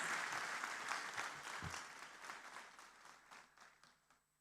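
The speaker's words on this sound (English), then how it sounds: "Let us now give a round of hearty applause for all the graduates proudly receiving the ECU degrees." An audience at a university graduation ceremony in Sri Lanka applauds the graduates, a soft wash of many hands clapping that gradually thins and fades over a few seconds.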